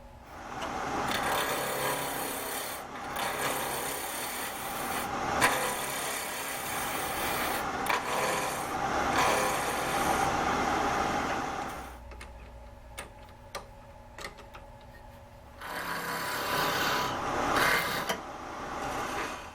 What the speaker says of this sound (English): I'm going to mark centers and turn a tenon on it.